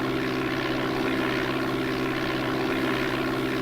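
The propeller engine of a light airplane in the DOS game Flight Simulator 4 drones as a loud, steady, unbroken hum with a constant low tone and no voices.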